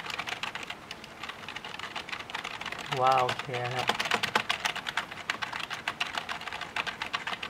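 Rapid, clacky key presses on a Nubwo NK-006 rubber-key keyboard go on throughout, fairly close, with a short spoken exclamation breaking in briefly partway through.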